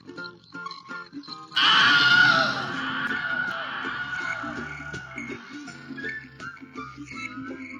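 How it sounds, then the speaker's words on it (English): A Wilhelm scream with echo, an unused sound from the Angry Birds video game, bursts in loud and sustained, then trails off into a long reverberant tail under game music. "The only unused sound is the Willem scream, but with an echo."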